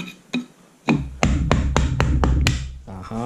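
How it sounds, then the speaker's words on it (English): Hammer blows on a VW 020 gearbox part, a few scattered taps and then a quick run of about six sharp metallic strikes, close and loud, followed by a brief voice. "Called a 2mm hammer because everything you hit moves 2mm."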